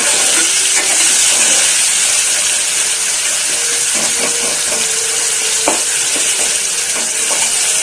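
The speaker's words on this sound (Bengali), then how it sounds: "টমেটো দিয়ে আমি আরেকটু নাড়িয়ে নিচ্ছি" Tomato being stirred into pabda fish curry frying in a pan, a steady loud sizzle and hiss throughout with a few soft scraping stirs of the spoon, no talking.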